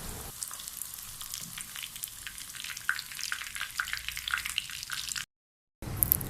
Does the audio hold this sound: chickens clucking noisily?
no